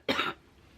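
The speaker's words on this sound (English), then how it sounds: "I'm gonna cough again, and I'm so sorry." A single short, sharp cough from a person with asthma, close and clear, fading quickly into quiet room tone.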